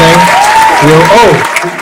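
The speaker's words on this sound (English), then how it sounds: "We're gonna put those applause in for B." An applause sound effect plays on a podcast, a steady wash of clapping running under a continuous tonal sound that rises and falls, loud and close throughout.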